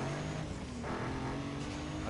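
Race car engine in the video game Need for Speed Carbon, a steady mid-level drone with harmonic whine holding fairly even through the short stretch, no talk over it.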